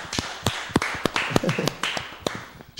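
A small studio audience on a Brazilian TV show gives sparse, sharp handclaps, about a dozen distinct claps in quick, uneven succession, fairly quiet and close.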